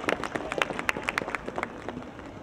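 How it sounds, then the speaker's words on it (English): A crowd at the 2016 Grand Illumination applauding Recreation and Parks staff with a short burst of scattered, fairly distant clapping that thins out after a couple of seconds. "Would you give them a round of applause?"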